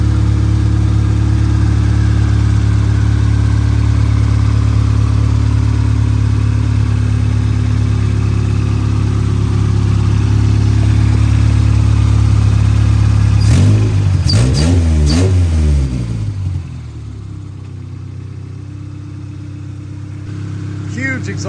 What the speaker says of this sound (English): Huge exhaust leak, as you guys can tell. We're going to be taking care of all that. It's a good running little B20 though.